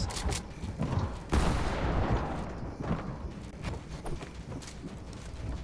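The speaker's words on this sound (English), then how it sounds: "Someone underneath me starts shooting at me" Gunfire in a mobile battle royale video game, with dense bursts of shots and impacts that stay loud and continuous throughout, mixed with scuffling, movement-like noise and no talking.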